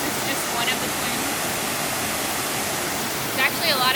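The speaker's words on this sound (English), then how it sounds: "So we're now at the first stop of Twin Falls, and gonna check out some waterfalls" Twin Falls waterfall on Maui roars as a steady, full rush of falling water, with brief voices rising over it near the end.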